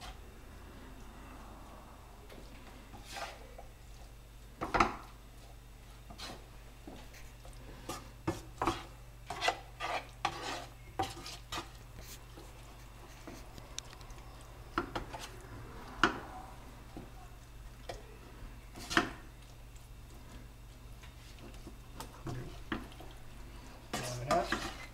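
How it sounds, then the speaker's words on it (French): Anchovies, about 100 grams, stirred by hand into a savoury cake batter with tomatoes and black olives, giving soft scraping and rubbing strokes with scattered utensil clinks against the bowl, close and fairly quiet. "On va mélanger un petit peu, c'est un peu le bordel"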